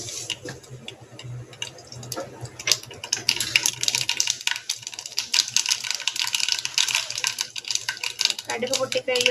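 Mustard seeds splutter in hot coconut oil, a dense, continuous crackling of sharp little pops that grows busier over several seconds, with faint voices briefly in the background.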